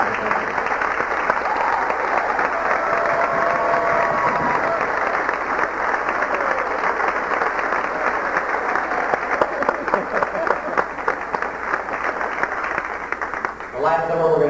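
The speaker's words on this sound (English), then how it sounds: "give a big round of applause to our very secretary" Audience applause at a 1997 high school spring concert, a dense, steady wash of many hands clapping that carries on loudly for the whole stretch before fading near the end.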